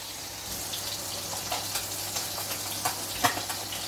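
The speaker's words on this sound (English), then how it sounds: "So I'm going to be draining the water." Water drained off pre-cooked lentils runs in a soft, continuous pour with faint splashes and a few small clinks near the end, close by and moderately quiet.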